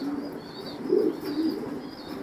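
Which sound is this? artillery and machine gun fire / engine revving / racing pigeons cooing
racing pigeons cooing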